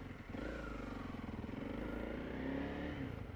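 A dual sport motorcycle, either a Kawasaki KLX300 or a Honda CRF300L, idles close by with a smooth, throaty, steady engine pulse and a slight rise partway through, without talking.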